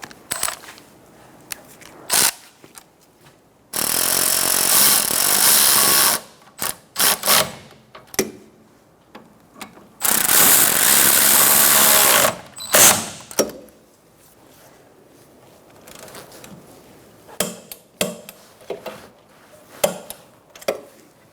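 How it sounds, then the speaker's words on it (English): Ratchet clicking and metallic clatter while tightening rear brake caliper bolts on a 2014-2019 Kia Soul, then torquing them to 50 foot-pounds; short loud bursts of rapid ratcheting alternate with scattered tool knocks and quieter gaps, no talking. "I'm going to tighten those up and then torque them to 50 foot-pounds."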